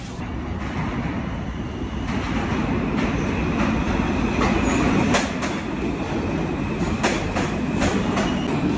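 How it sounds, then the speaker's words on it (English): A New York City subway train running, with a steady loud rumble of wheels and carriage noise throughout, rhythmic clacks and brief metallic squeals, heard from on board with no talking. "we are trying the fucking subway"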